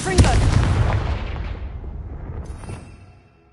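A Confringo fire spell in Hogwarts Legacy goes off as a heavy booming blast with a crackling burst up front, rumbling and fading away over a few seconds.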